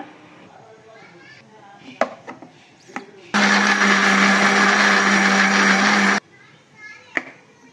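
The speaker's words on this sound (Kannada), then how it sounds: "ಇವಾಗ ಇದು ಜಾಸ್ತಿ ನುಣ್ಣಗೆ ರುಬ್ಬೋದು ಬೇಡ, ತರಿಯಾಗಿ ರುಬ್ಬೋಣ." A kitchen mixer grinder coarsely grinds ridge gourd chutney in one loud, steady whir lasting about three seconds, set between light clinks and handling knocks.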